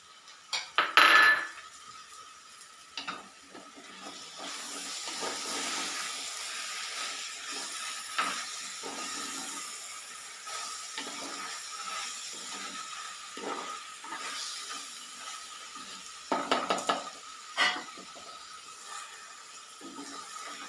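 Onions and tomato being sautéed in a pan make a soft steady sizzle, punctuated by clattering knocks of a utensil against the cookware near the start and again later, with no voices.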